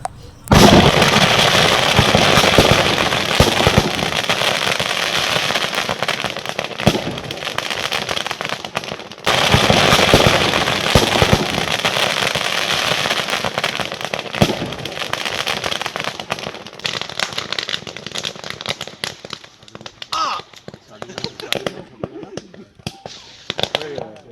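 Firecrackers go off in rapid, dense strings of sharp pops and crackles on a riverbank, loud and continuous at first, then thinning into scattered bursts toward the end, with voices faintly underneath.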